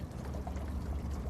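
Water from a fire hydrant rushing through a pipe, a steady low gushing and sloshing that stays constant and fairly quiet, with no voices over it.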